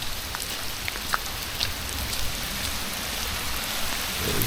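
Steady rain falls through a dark forest at night, a dense even hiss with scattered close drips and drops landing on leaves, continuous and moderately loud with no voices.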